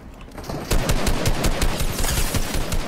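Rapid automatic gunfire in a shooter video game, a dense, loud stream of close shots in a steady rhythm lasting several seconds with no talk over it.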